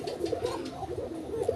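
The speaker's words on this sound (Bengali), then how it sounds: "আমি একটু ডাকানোর জন্য চেষ্টা করি, আসলে কোকা কবুতর না ডাক দিলে" A Basiraj Koka pigeon coos softly in a few low, rounded notes, close but faint, with no other voices.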